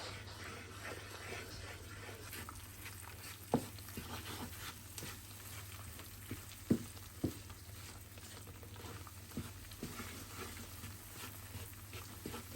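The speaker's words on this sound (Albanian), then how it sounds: "Përzina pra, miellin me vajin, derisa ta merr një ngjyrë që ne dëshirojna." Flour frying in oil for halva sizzles steadily in the pan, with occasional sharp clicks and scrapes from stirring over a low constant hum.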